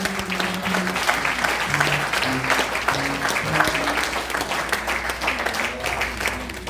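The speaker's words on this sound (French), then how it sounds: "On applaudit bon Dieu ça." A church congregation applauds during worship, dense continuous clapping filling the room with voices and sustained tones sounding underneath.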